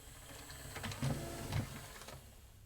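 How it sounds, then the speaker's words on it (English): A LaserDisc player mechanism motor runs on a bench power supply, a quiet steady whirring hum with faint rhythmic mechanical clicks and ticks spread over a few seconds. "I've hooked up the motor to the bench supply so I don't have to keep cranking it by hand, and it now seems to be operating quite smoothly."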